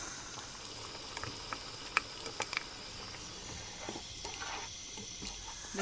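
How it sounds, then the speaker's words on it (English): Rice and water bubble in a pot for prawn biryani, a soft, steady simmer with scattered small pops and crackles, quiet and close. "Let it boil"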